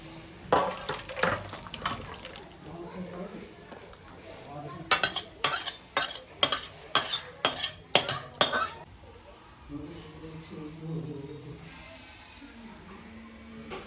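Someone takes a pan of home-style mutton curry off the stove, with metal utensils clinking and clattering in a quick burst of sharp, close knocks that fade into quieter kitchen handling.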